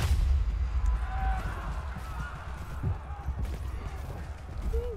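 Gunfire from units in the strategy video game Dune: Spice Wars, a low rumbling barrage of muffled distant shots and booms, steady over a few seconds beneath faint game ambience.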